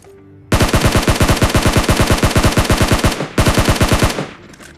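Loud, close gunfire in the mobile video game PUBG Mobile: a rapid automatic burst of about three seconds, a brief gap, then a second shorter burst.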